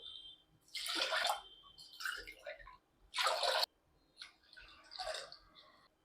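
Water is poured in several separate gushing bursts into a metal pressure cooker holding barley, with quiet gaps between pours.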